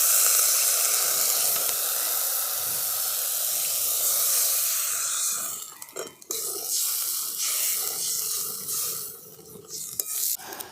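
Water poured onto hot fried spices in a pan for a river pabda fish curry bursts into a loud, hissing sizzle that gradually settles into a softer, uneven bubbling.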